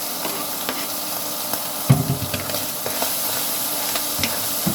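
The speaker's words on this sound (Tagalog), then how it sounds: "Ngayon, lalagyan na natin ang ating bawang at saka sibuyas." Garlic and onion sizzling in a pan with beef: a steady, close frying hiss with a few stirring clatters and scrapes, no talk.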